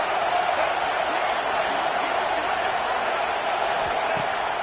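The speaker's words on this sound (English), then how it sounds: "this crowd is making it miserable on this offense" Stadium crowd in a college football video game roars on a fourth down, a dense, loud, steady wall of noise that holds without a break throughout.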